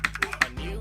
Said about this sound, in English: you just want to push it down with your finger until it's all the way down, flat